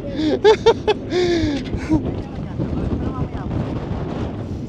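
Wind buffets the microphone aboard a party yacht at Boracay, with loud, rough gusting rumble throughout and a person's exclamations at the start.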